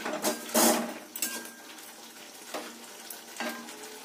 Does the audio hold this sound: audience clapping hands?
no